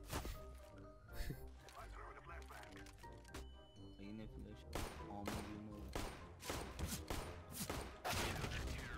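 Shotgun blasts in CS:GO, a 100-metre shotgun-versus-shotgun match, crack out repeatedly as dense bursts of gunfire layered with game sounds, while players talk heavily over the action.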